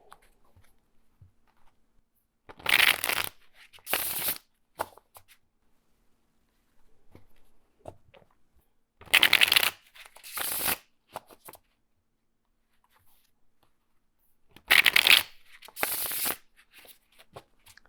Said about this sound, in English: Normally I like to do 3 bridge shuffles